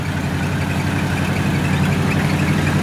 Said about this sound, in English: Hear that engine? Race car engine.